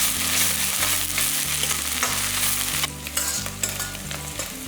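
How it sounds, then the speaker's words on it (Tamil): Onions with mint and coriander leaves sauté in a hot pan with a steady close sizzle, while a spatula scrapes in regular strokes through the frying, with no voices. "எல்லாமே போட்டு நல்லா வதக்கிக்கலாம்"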